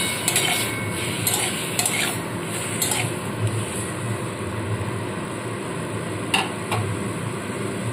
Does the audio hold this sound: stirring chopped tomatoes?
yes